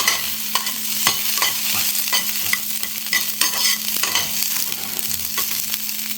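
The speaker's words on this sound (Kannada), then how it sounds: "ಗ್ರೀನ್ ಚಿಲ್ಲಿ ಸ್ವಲ್ಪ ಹುರಿಬೇಕು" Green chillies fry in hot oil for pulao, a steady close sizzle broken by repeated sharp scrapes and clicks of a spoon stirring the pan.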